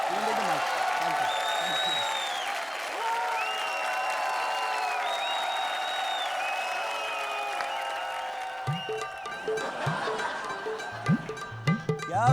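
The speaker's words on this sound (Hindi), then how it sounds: "जोरदार तालियां" A studio audience at an Indian comedy show applauding loudly in a dense, sustained burst of clapping that carries through most of the stretch, with musical tones and voices mixed in and the clapping thinning toward the end.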